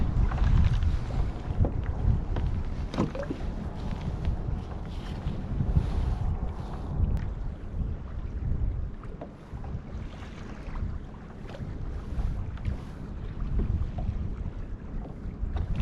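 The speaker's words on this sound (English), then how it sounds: "I can hear a boat behind me." A passing boat's engine rumbles low and steady in the background, heard from a kayak, mixed with gusty storm wind buffeting the microphone and faint water sounds, with no voices.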